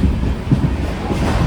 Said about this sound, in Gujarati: ઝડપથી ટ્રેન હાલે છે